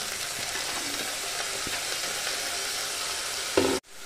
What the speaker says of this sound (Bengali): এবার আমি এর মধ্যে কুচানো কলমি শাকটা দিয়ে দিচ্ছি